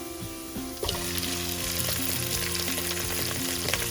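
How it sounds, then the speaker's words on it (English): Prawns sizzle and fry hard in a pan of golden-browned garlic, a steady loud crackling hiss that surges when they hit the oil, with occasional scraping stirs and no voices. "At this stage we would have to add our prawns"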